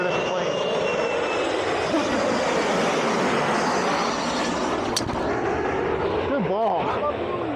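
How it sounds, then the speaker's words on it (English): A fixed-wing airplane passes overhead above a golf course, its engine a broad, steady roar at moderate distance, with people talking over the drone. "There's a plane flying overhead right now."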